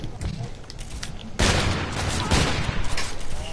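Gunfire in a shooting video game in a 1v1v1 match, a loud burst of rapid shots erupting partway through over quieter background, with a player's voice talking around it.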